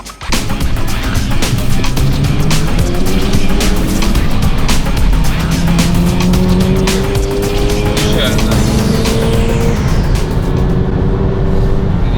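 A loud 1990s Toyota Celica 3S-GTE racing engine revs hard and climbs through the gears, with rising pitch sweeps and steady roaring throughout.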